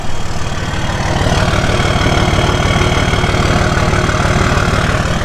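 A vehicle engine with a modified exhaust idles with a steady, deep pulsing rumble, loud and close, with no one talking.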